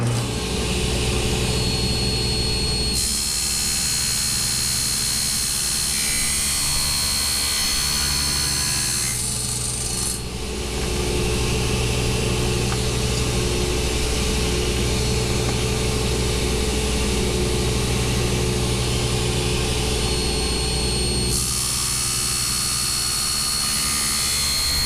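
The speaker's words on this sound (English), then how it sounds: "set up a sled on my table saw with a stop block so I can cut all of these lengths to just over 1 3/4" A table saw running on a sled with a stop block cuts brass stock into short lengths for knife hinges, a loud steady motor whine with several harsher stretches where the blade bites into the metal.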